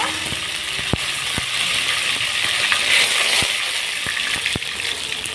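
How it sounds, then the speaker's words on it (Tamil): Cumin, fenugreek and curry leaves splutter in hot oil for a fish curry, giving a steady loud sizzling hiss broken by sharp scattered pops and crackles. "இப்போ ஆயில் ஹீட் ஆன உடனே போட்டுருங்க போட்டுட்டு பொரிஞ்ச உடனே கொஞ்சம் கருவேப்பில்"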